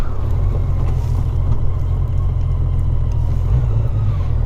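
A 2004 Honda Rune motorcycle rides under way in third or fourth gear, its deep engine rumble steady and close with wind noise buffeting the microphone.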